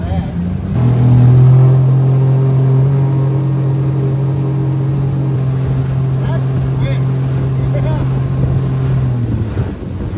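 An outboard motor on a welded aluminum boat runs steadily across the water with a strong, sustained low drone after a quick rise at the start, heard close with wind buffeting the microphone throughout.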